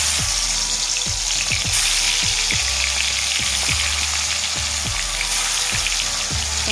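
Pieces of katla fish fry in hot oil with a loud, steady hiss, while soft low pops and thumps recur at a fairly regular pace throughout.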